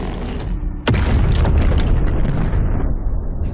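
A ship's cannon in a video game trailer fires one loud, sudden boom, followed by a dense, rumbling wash of noise that lingers for several seconds.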